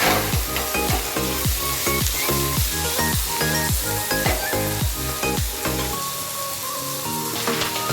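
Ginger and garlic pieces drop into hot oil with fried onions for a restaurant-style matar paneer masala, giving a loud, steady sizzle with a rhythmic clatter of stirring throughout and no talking.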